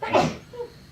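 A single short human sneeze, fairly close and moderately loud, bursts out during a Civil Air Patrol squadron meeting and then fades into quiet room tone.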